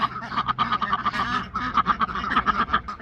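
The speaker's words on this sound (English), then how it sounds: "Get your ducks together. Come on, April. Come on, little white duck." Several ducks, including a little white one, quacking in quick repeated bursts close by on a homestead, with a faint human voice underneath.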